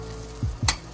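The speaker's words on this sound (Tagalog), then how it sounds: "Ginigisa na yung bawang." Minced garlic sautéing in a little cooking oil for a Filipino goat sinampalokan stew, a low sizzle with two brief stirring scrapes close by, no talk.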